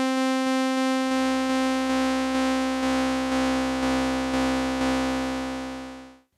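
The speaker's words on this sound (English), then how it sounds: "Okay, now I'll take oscillator 3 off so we don't listen to it, and I'll bring some FM in." Moog synthesizer bass with FM modulation dialed in, one long sustained note with a gritty, rapidly pulsing metallic edge that grows brighter over several seconds before cutting off.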